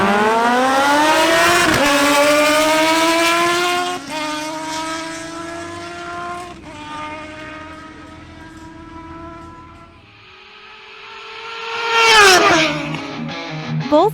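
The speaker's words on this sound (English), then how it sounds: "Harold Rodolo on his Kawasaki ZH2 races Martin Correa on his Kawasaki Ninja Z1000SX again." Kawasaki ZH2 and Kawasaki Ninja Z1000SX motorcycles at a drag race, their engines revving hard with rising pitch through repeated gear changes, loud and close, before fading and surging again as another roars past.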